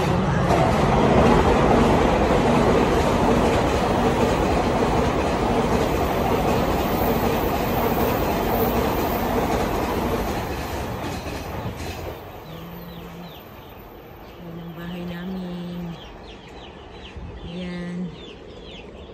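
A train rolls by close and loud for roughly the first ten seconds, a broad rushing rumble that fades away, leaving chickens clucking faintly in a rural neighborhood.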